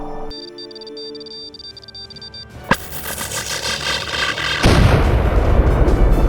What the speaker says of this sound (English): Target that ship's weapons and fire.